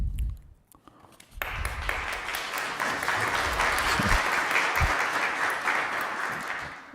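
An audience at a county commissioners meeting breaks into applause after a brief quiet moment. The clapping stays full and sustained, then thins toward the end.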